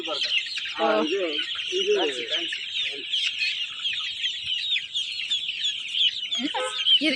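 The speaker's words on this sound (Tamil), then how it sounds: "இது நாட்டுக்கோழி குஞ்சுங்களா?" Dense, constant high peeping from a flock of native chicken chicks, nearby, with occasional lower clucks and brief human voices breaking in.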